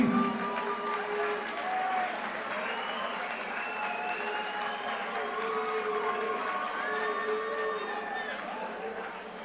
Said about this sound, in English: Round of applause, Sandusky.